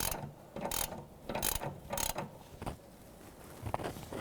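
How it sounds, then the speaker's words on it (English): Ratchet wrench tightening a front sway bar link nut on a 2007-2012 Nissan Altima: several bursts of rapid close clicking in short strokes with brief pauses between, no talking. "I'm just going to start tightening that down."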